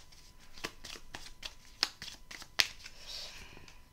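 Tarot cards shuffled and drawn in a love reading, a run of soft papery riffles and flicks with a few sharper card snaps, close and fairly quiet, no talking.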